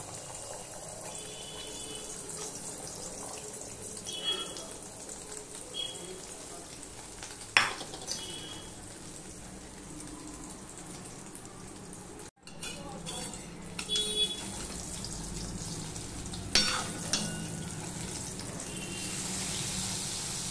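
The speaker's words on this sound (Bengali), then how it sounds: "এবার যে ফেটিয়ে রাখা ডিমটা আমি দিয়ে দেবো" Beaten egg fries in oil in a wok, giving a steady hissing sizzle broken by occasional clinks and scrapes of a utensil.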